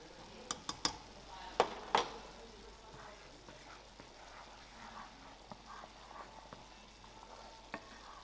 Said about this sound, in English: you stir them very gentle